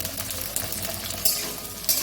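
Ginger paste being stirred in a hot frying pan, a continuous close sizzle with a few sharp scraping accents from the spoon against the pan.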